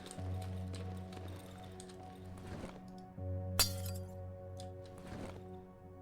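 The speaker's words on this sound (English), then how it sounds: "No, do not pick up the broken glass." Broken glass clinks in the horror video game Darkwood, a couple of short bright chinks amid a quiet ambient drone with faint thuds, no talking.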